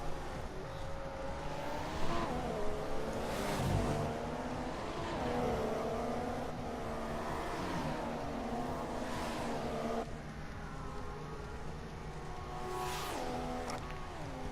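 Formula 1 race cars in the game F1 2014 at the Belgium circuit, high engines wailing and shifting through gears as several cars pass close in succession, pitch rising and dropping with each pass, no talking.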